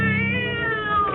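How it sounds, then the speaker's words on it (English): A cat screams in a loud, sustained wail as a sound effect in a 1945 radio horror drama, one drawn-out yowl filling the whole moment with no voices over it. "the cat screamed and leaped against the wall"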